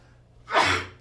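A single sharp human sneeze bursts out abruptly and close to the mic, a brief explosive puff with a quick tail, against a quiet room background.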